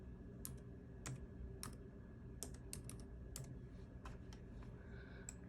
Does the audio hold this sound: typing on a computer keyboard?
yes